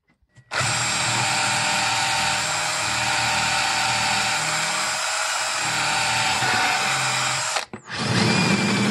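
A power drill runs loud and steady for several seconds, pre-drilling the thickness of a tip, briefly stops, then whirs back up again.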